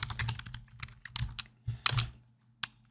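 Keys clatter on a computer keyboard in quick uneven bursts with short pauses, close and clear, nothing else audible.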